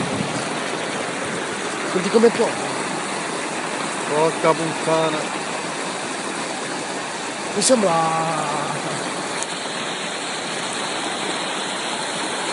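Floodwater rushes steadily in the rain at Ponte Lambro, a constant broad roar with someone speaking over it now and then.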